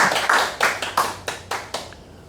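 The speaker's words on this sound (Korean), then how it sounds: "좀 박수 치고." A handful of distinct, sharp claps at a church gathering, spaced unevenly and fading over about two seconds, more like a few people clapping than a full audience.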